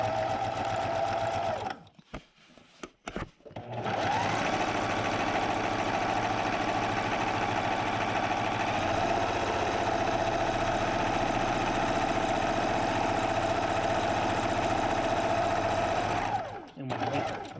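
A Singer 4411 sewing machine runs in a long, steady mechanical whir while stitching a quilt block and backstitching, starting after a few brief stops and stutters and running close and loud until it halts near the end.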